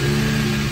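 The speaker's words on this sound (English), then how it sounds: "We can start the car." A 1997 Volvo 850 engine running steadily right after starting, a close, loud, even mid-low drone with no voices.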